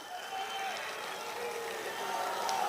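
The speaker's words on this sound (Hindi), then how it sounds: "एक बार अपने लिए जोरदार तालियां बजाइए साथियों।" A crowd at a Congress party public rally in Inderlok, Delhi, breaks into applause. The clapping is a faint, distant wash of hiss that swells slightly and continues throughout.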